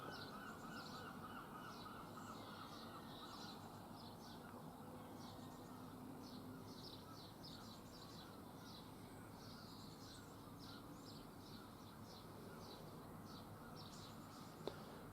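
Seagulls calling in a foggy early morning in Glastonbury, a continuous series of distant cries and squawks over low steady ambient rumble, fairly faint throughout.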